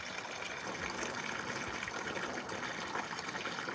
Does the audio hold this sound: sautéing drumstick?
no